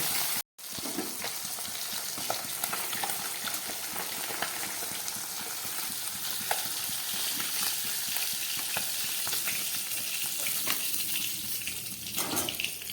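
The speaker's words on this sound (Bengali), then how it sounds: "এই মাছগুলোকেও ঠিক হালকাভাবে ভেজে নেব।" Steady crackling sizzle of pabda fish frying in hot oil, continuous and close, with a brief gap near the start and no talking.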